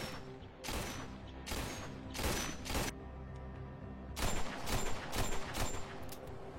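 Gunfire during shooting practice in an underground tunnel in a film, with several bursts of rapid shots separated by short pauses and the heaviest volley near the end, loud and echoing, with low music underneath.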